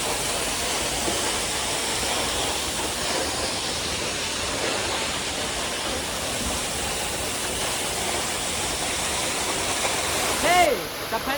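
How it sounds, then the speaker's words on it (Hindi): Waterfall at an ancient sightseeing spot in Amarkantak, Chhattisgarh, a loud, steady broadband roar of falling water that fills the whole stretch, with a brief louder bump near the end. "फाइनली हम पहुंच गए हैं झरना।"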